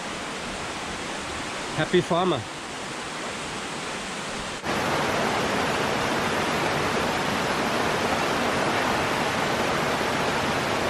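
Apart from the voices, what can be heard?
flowing water from a waterfall stream at campsite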